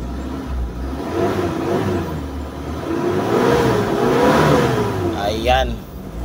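A Mitsubishi Adventure engine, checked for a crankshaft gear and mass airflow sensor fault, revs up and down in steady swells with a rising whine, close by, while someone talks over it.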